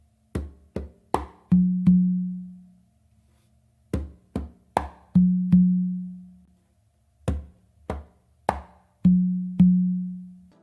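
A conga tumbao is played across the tumba and the main drum in a steady repeating pattern of short slaps and muted strokes. Each phrase ends on pairs of ringing open tones. The playing is close and isolated, with no voices.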